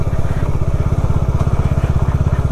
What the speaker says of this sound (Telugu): వాళ్ళందరూ బైక్లు వేసుకొని వస్తున్నారు.